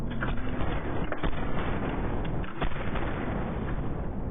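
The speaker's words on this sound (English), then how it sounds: "with the speed of Hermes, she starts shooting" A suspect opens fire in the tactical shooter Ready Or Not: dense, loud gunshots and sharp cracks ring out amid a constant roar of game noise.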